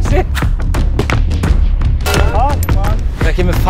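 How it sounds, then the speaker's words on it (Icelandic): Rifle shots ring out at a PRS (Precision Rifle Series) match in Iceland, several sharp loud reports with metallic pings of bullets striking steel targets, mixed with other gunfire and people talking throughout. "Ógeðslega gaman að taka í kikki og heyra bing fyrir aftan sig."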